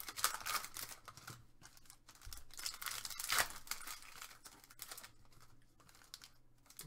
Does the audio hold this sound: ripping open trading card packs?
yes